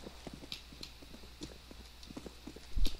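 Soft rhythmic footsteps in CS:GO tap steadily at moderate distance, with a faint high ping now and then and a low thump at the end.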